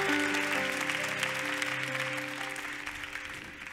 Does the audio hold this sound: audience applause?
yes